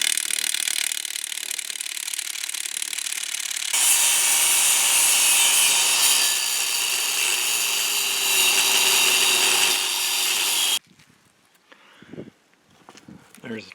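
A power tool grinds steadily through a metal wheel nut, cutting it in two so the wheel can come off; the loud, continuous cutting noise runs about eleven seconds and then stops, followed by faint handling clatter.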